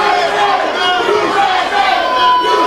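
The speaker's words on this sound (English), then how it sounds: "And now the crowd chants for USA" A wrestling arena crowd chanting "USA" together, a loud, rhythmic swell of many voices that rises and falls while the chant carries on throughout.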